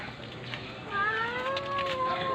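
A thin cat meows in one drawn-out, wavering cry lasting over a second, close by, over faint background noise on an outdoor walk, without talking.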